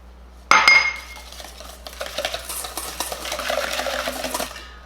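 Eggs and sugar mixed in a bowl for a Neapolitan cake, opening with a sharp clink of utensil on the bowl, then a rhythmic, close scraping and whisking that builds and continues steadily.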